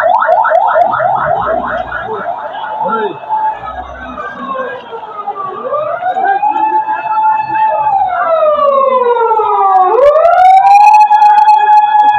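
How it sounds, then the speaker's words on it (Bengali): An ambulance siren wails loudly near the Dhaka Medical College area during street unrest, first pulsing rapidly and then sweeping up and down in long rising and falling tones as it speeds past close by. "অ্যাম্বুলেন্স এত জোরে যাওয়ার দরকার কি?"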